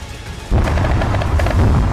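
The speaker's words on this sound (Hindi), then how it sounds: "हर तरफ से गोलियां चली" Gunfire in war footage from Gaza, a sudden loud burst that breaks in after a quieter moment and continues as dense, rumbling, overlapping shots.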